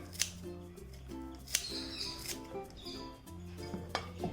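Coriander leaves are cut in small, faint snips and taps close by, irregular and quiet, with some background tones and light voice-like sounds.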